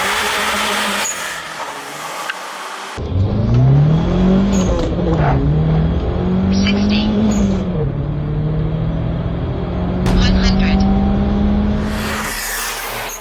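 A turbocharged BMW E21 with an M10B20 engine revs and accelerates hard, rising pitch sweeping up through gears, loud and close, with a brief quieter idle before and after.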